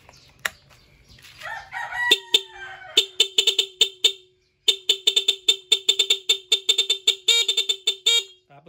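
A stock dual car horn wired through a relay sounds in a rapid series of short, sharp honks, sometimes in quick bursts, following a brief crowing-like blare, loud and close.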